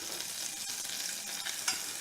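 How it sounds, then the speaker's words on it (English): A couple tablespoons of butter melt in a saucepan over medium heat, giving a faint, steady sizzle and crackle with a little stirring, close and without any talk. "I'm going to go in with a couple tablespoons of butter just to melt that down."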